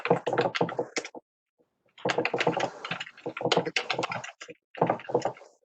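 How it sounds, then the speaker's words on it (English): Typing on a computer keyboard comes through an open mic during a city council meeting: quick bursts of sharp clicking keystrokes, close, in separate runs with short pauses between them, with no one speaking. "You can hear me typing, huh?"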